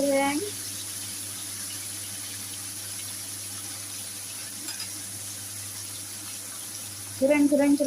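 Tofu pieces frying in hot oil for crispy fried tofu, a steady even sizzle running throughout at moderate level, with a brief louder burst of bubbling crackle near the end.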